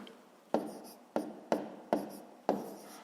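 Pen strokes of hand-written numbers in a column addition, five sharp scratchy onsets each trailing off into a short rasp, close and clear with no talking.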